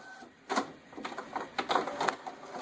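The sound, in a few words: printer starting a print job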